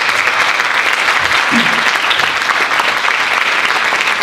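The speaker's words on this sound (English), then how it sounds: "So a big round of applause for Mireya Saldaña." Loud, sustained audience applause at an immigration monologues event at George Mason, dense and even clapping from a crowd throughout with no break.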